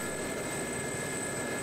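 An SA342 Gazelle helicopter from the DCS flight simulator hovers a few inches off the ground, its steady, continuous turbine and rotor drone holding at an even level with no talk.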